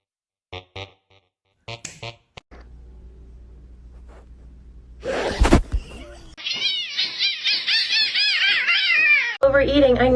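Several cats meow loudly and repeatedly, with long drawn-out cries in the second half, close by. Short bursts of speech come first and a low steady hum sits underneath.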